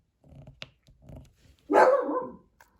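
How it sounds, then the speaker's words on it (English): A dog gives one loud, close bark after some quieter snuffling and shuffling sounds, then falls silent. "Sometimes she just barks to be barking."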